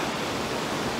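Rushing water of a waterfall near a riverbank by a train wreck site in the Whistler forest, a steady full-band roar close by with no break.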